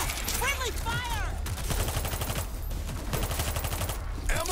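Friendly squad gunfire in the zombie shooter World War Z: fast clattering bursts of shots, mid-distance, with eerie screeching creature cries at the start and end.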